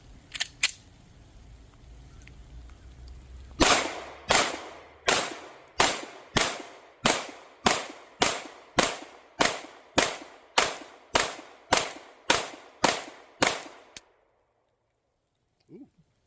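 A rapid string of about fourteen loud, sharp pistol shots comes in a fast, even rhythm, likely from a Zev Oz9 Hypercomp, after a few quieter clicks and handling sounds at the start.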